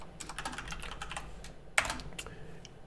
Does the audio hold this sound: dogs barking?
no